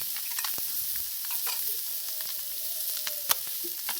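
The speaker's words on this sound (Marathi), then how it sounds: "खडस मासा फ्राय करायला घेऊया" Pieces of khadas river fish fry in a pan with a constant close sizzle, dotted with faint pops and soft scraping, and one sharp crackle near the end. There is no speech.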